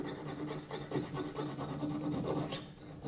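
A hand saw rasps back and forth through metal in quick, even strokes, a gritty scraping rhythm close by with no talking.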